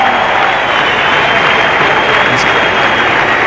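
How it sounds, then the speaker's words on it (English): A cricket crowd at a 1992 World Cup match between Pakistan and South Africa applauds and cheers for Pakistan, a broad, sustained wash of clapping and voices that stays loud and even for the whole stretch. "Pakistan here, the crowd's happy."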